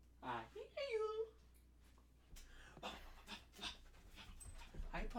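A dog pants near the mic, with whimpering, in a room where people talk and react over an online call.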